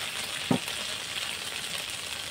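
Bay leaves and dried red chilies drop into hot frying oil for a Bengali fig-and-prawn curry, giving one soft plop followed by a loud, steady sizzling hiss that continues without a break.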